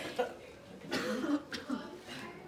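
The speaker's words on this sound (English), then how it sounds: "Deep cough." Deep coughs from a person following a deep breath in and two strong coughs out, a few rough bursts close to the mic at moderate volume.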